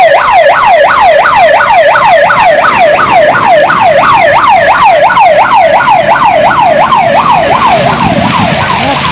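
A loud fire truck siren whoops rapidly and steadily up and down, close by, as fire trucks arrive at a burning bus, its fast yelping cycles repeating for several seconds with a second siren faintly behind.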